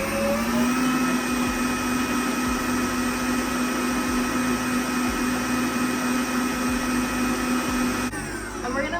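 Electric mixer whipping egg whites toward stiff peaks for macarons, a loud continuous motor whir holding steady for about eight seconds before easing slightly at the end.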